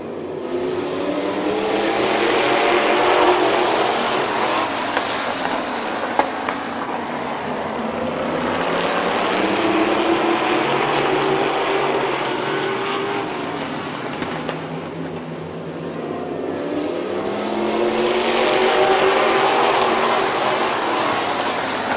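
Race cars at Midvale Speedway roar around the oval in a loud, continuous engine drone that swells and fades as the field passes close by, with no talk over it.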